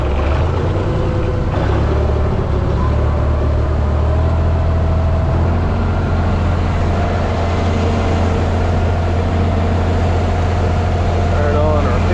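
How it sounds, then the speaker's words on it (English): A tractor engine runs with a loud, steady low drone that holds constant from start to finish, close by. "get your tractor started,"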